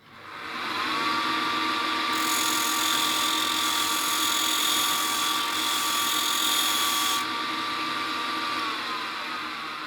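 An angle grinder runs steadily while sharpening a wood chisel held against its head on a homemade wood lathe, with a continuous loud whine that rises in pitch and brightens midway as the steel bites, then eases back.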